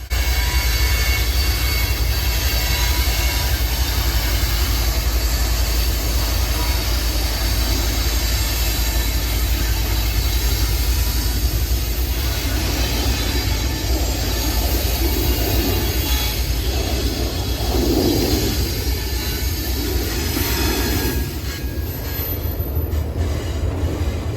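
A very long 11,000-foot freight train with two KCS GEVO mid-train locomotives passes close by, a loud continuous rumble of rolling cars with steady engine drone and occasional wheel squeal throughout.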